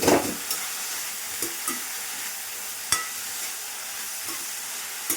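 Onions and long brinjals sizzle and fry in a pan, a steady hiss broken by sharp scraping clicks of a spatula stirring at irregular intervals, close and without talk.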